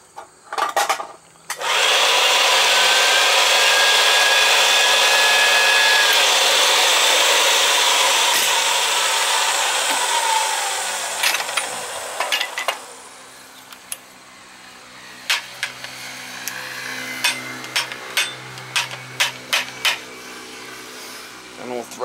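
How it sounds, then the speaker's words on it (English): A gas pipe being reamed with a power reamer during a gas conversion burner install, a loud steady whirring grind for about ten seconds, then quieter scraping and clicks of handling. "Next thing we'll do is the reamer."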